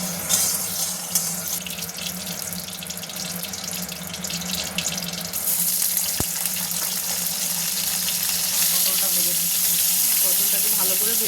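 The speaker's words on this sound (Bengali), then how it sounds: "তারপরে কড়ায় তেল দিয়ে পটলটা একটু ভালো করে ভেজে নিতে হবে।" Pointed gourd (potol) frying in oil in a wok, a continuous broad hiss that holds steady and grows slightly fuller toward the end, with one sharp knock partway through.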